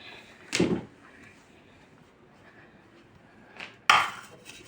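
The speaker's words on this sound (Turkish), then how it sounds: "Tenceremi de ocağa koydum" A metal pot of Thracian-style meatballs in sauce clanks onto a kitchen stovetop. Two separate close, bright metallic knocks are heard a few seconds apart, with quiet room tone between them.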